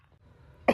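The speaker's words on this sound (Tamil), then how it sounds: "என்னடா முரட்டு இருமலா இருக்கும் போலியே" A single harsh cough bursts out loud at the very end, after a brief stretch of near silence.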